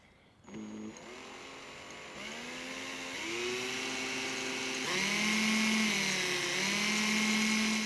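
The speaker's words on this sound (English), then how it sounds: "now drill a hole straight through it" A power drill whines continuously, its pitch rising and dipping as it bites and boosts through wood, loud and close.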